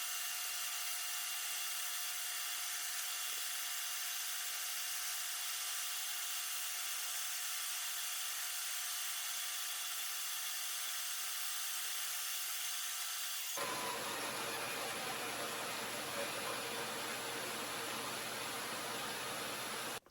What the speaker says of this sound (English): you'll get an even better look after I cut it out on the bandsaw